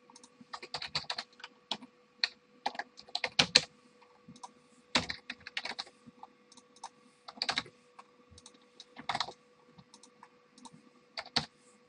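Rapid, uneven bursts of typing on a computer keyboard while entering PHP guestbook database fields, close and clear with short pauses between runs of clicky keystrokes.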